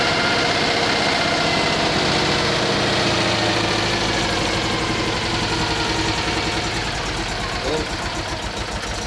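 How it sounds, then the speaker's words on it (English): A Citroen 2CV engine idles steadily up close, its exhaust giving a low, rhythmic chop with a constant rumble throughout. "I'm sure I can hear just a hint of exhaust noise"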